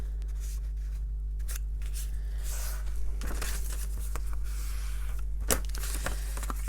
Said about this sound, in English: you can just fold over like that. Use a bone folder just to crease your lines